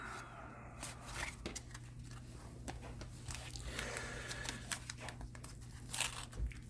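Someone tears into a 1981 Donruss wax pack of baseball cards, making continuous close rustling, ripping and crinkling of the wrapper with scattered sharper crackles and no speech.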